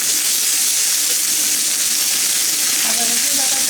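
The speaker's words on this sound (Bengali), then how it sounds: "আদা রসুন বাটা দিয়ে খুব ভালো করে ভেজে নেব।" Ginger garlic paste frying with onions in a pan gives a steady, close, loud sizzle and hiss with faint crackles toward the end. No one speaks.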